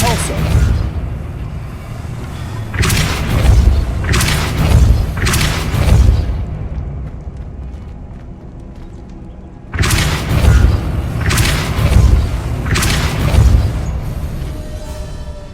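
Depulso spell blasts in the video game Hogwarts Legacy, a series of heavy booming thumps in two clusters of about three or four, loud and close over a low ambient game background.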